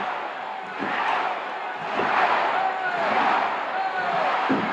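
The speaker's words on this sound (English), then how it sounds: "And the crowd gets with it." A pro wrestling arena crowd roars and cheers during a knee and thigh hold, a broad swelling din rising and falling, with a commentator talking over it and occasional thuds.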